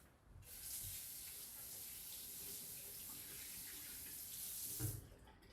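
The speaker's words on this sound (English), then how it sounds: "Wash my hands now." A kitchen tap runs while hands are washed under it, a steady soft rush of water with faint splashing that starts and stops abruptly and a brief clunk near the end.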